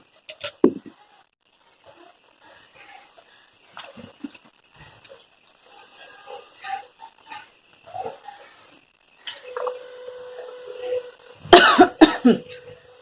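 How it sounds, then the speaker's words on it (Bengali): A person coughs after drinking water indoors, with a sharp cough burst near the start and a louder cluster of harsh coughs toward the end, separated by quieter rustling and small mouth sounds. "বাবা জল খেয়ে কাশি হয়ে যাচ্ছে"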